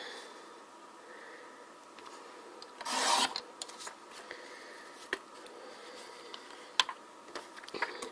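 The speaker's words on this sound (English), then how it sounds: "So I'm just going to trim these all at once." A paper trimmer slicing through a stack of dotted paper sheets: one loud, close rasping swipe, with faint scattered rustles and small ticks before and after.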